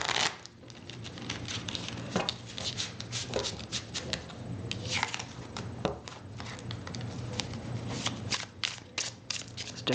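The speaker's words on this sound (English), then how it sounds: "This deck's a little bit hard to shuffle" A deck of tarot-style cards being shuffled, with dense rapid riffling and flicking bursts running continuously and close up, alone without talk.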